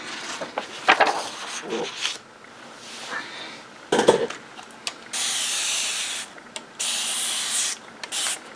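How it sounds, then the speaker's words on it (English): Several short hissing sprays from a hair-salon pump spray bottle, mixed with a few rubbing and clinking sounds, followed by longer sustained bursts of spray up close. "this is a spray bottle from the hair salon area"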